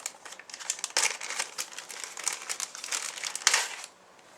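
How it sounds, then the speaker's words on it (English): A glow-in-the-dark Hand of Apollo figure is pulled from its packaging, making close, irregular plastic crinkling and crumpling with a few louder crackling bursts, then quieting at the end. "I'm going to take the hand of Apollo out of the packaging."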